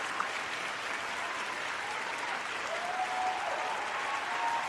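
Applause for a speaker at a union discussion, a modest, steady patter of clapping heard from a distance at low level, with a faint tonal hum beneath.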